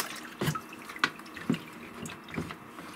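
Liquid draining from a diesel boat engine into a bucket, heard as a handful of separate drips and small splashes at an uneven pace, close and fairly quiet, with no voices.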